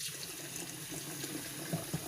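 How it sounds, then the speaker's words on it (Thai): Water running and splashing steadily as sticky rice is rinsed in a bowl, a continuous soft wash of sound with a couple of small sloshes near the end. "แล้วเราก็ล้างออก ล้างออกจนแบบว่าน้ำใสๆอะเนาะ"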